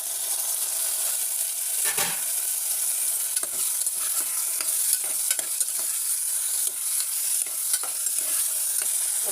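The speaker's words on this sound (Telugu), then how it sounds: "ఉల్లిపాయలు కొద్దిగా వేగుతుంది కదా, నత్తమాంసం వేసేసుకుందాం" Snail meat drops into onions frying in a pan and is stirred, giving a bright, steady sizzle with scraping spoon strokes throughout; no talking.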